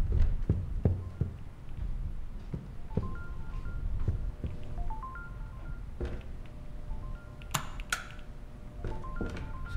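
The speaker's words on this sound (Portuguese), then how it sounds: "Telefone?" A telephone rings inside the horror video game Supernatural, with electronic tones repeating over a dense in-game background of thuds and clatter, steady and fairly loud throughout.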